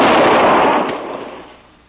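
A single loud rifle gunshot cracks close by, its blast fading away over about a second and a half.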